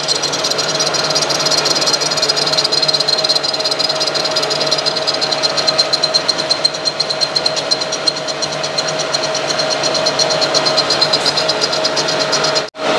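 A machine tool cuts metal on a Cosworth engine part, a loud steady whine with a fast rattling chatter and ringing tones, continuous and close, stopping abruptly at the end.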